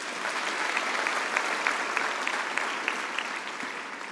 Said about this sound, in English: And I think that deserves a round of applause too.